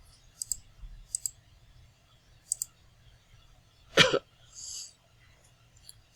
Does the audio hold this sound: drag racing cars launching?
no